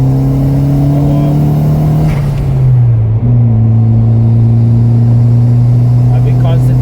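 A turbocharged Ford Figo accelerates hard from inside the cabin, its engine note droning steady and loud, then dipping at a gear change before climbing again, while people talk over the engine.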